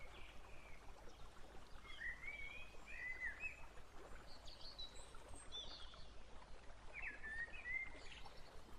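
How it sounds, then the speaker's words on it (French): Birds singing in an evening garden beside a gently flowing stream: a few faint, distant chirps and short warbling phrases over a steady soft wash of running water, no voices. "Des oiseaux chantent, loin, proches, leurs voix se répandent dans l'air du soir."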